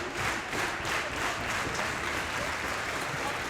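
Live wrestling crowd in Newcastle cheering and applauding at a Defiant Loaded show, a steady dense roar of clapping and shouts that swells in waves throughout, with no clear voices on top.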